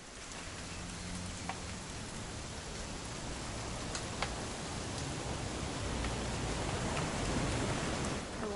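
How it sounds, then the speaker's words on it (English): Steady rain falls in a video game, a soft continuous hiss of drops with a few faint sharper ticks, alone and without talk. "It's gonna rain the whole weekend, isn't it?"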